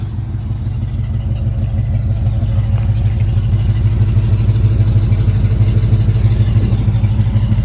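From behind a 1967 Camaro SS350, the V8 idles with a loud, close, steady burble and rhythmic exhaust pulses, running alone without talk.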